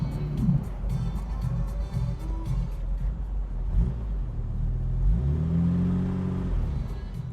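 A 1963 Jaguar MK II engine idles close by with a steady low rumble, the note shifting and rising slightly toward the end as it warms; faint talk may sit beneath it.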